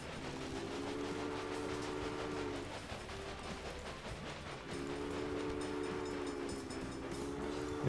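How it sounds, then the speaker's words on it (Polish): Train locomotive running in the railway strategy game Railway Empire, a steady rumbling rail sound with a sustained horn-like tone sounding twice, continuous and fairly full, with no talking. "To teraz tak, dorzucamy lokomotywę."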